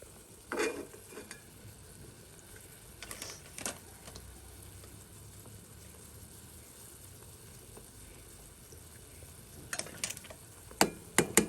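Egg is stirred into noodle soup in a pan, with a quiet background simmer broken by a few sharp scraping and clinking utensil strokes near the start and a cluster of louder clicks toward the end.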